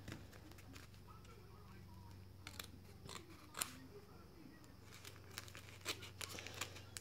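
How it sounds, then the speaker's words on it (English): Scissors cutting open the side of a mixed media envelope indoors, with faint papery snips and crinkles over a low steady hum, some louder clipped cuts toward the middle and end. "I think I'm gonna try to cut it open on the side here."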